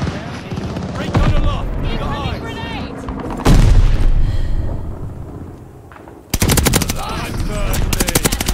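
Call of Duty Vanguard team deathmatch on Desert Siege: dense bursts of machine-gun fire and explosive booms, including a heavy impact about midway, followed by rapid crackling gunfire, with players shouting over the action.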